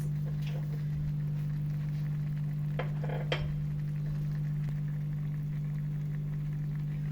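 Briouat filling of kefta and vegetables with chopped olives and harissa frying gently in a pot, giving a quiet, steady low sizzle with a few soft stirring scrapes over a constant background hum.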